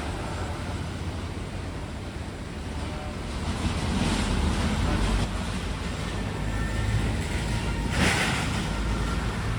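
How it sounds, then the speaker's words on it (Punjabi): Swollen river water surges through the open flood gates at Harike headworks in a continuous loud roar, with heavy wind buffeting on the microphone and a rise in intensity midway. "ਤੁਸੀਂ ਦੇਖ ਸਕਦੇ ਆ ਪਾਣੀ ਕਿੰਨੀ ਫਾਸਟ ਆ ਰਿਹਾ"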